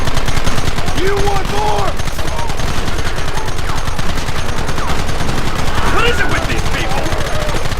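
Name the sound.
gunfire in Red Dead Redemption video game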